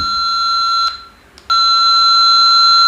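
A Baofeng BF-18H handheld radio with its squelch opened, giving a loud, steady tone that cuts out briefly near the middle and then returns, with no voices.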